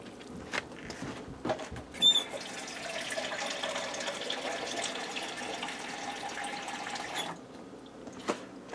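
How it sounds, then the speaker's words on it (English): Water pours steadily into a pressure cooker pot for several seconds, a soft close splashing stream with a few clinks before and after. "So I'm going to go ahead and add some water in here."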